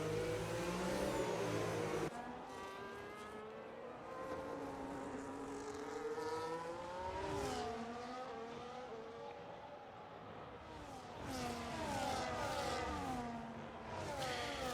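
Race cars in a CES round-five motor race in Mexico City pass close by one after another, engines revving and pitching through rising and falling whines, loud and near with brief surges as each car sweeps past.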